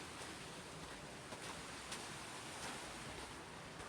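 Creek water near Moonville Tunnel rushes steadily past rocks at higher than normal flow, a continuous broadband wash that holds close and even throughout with no voices.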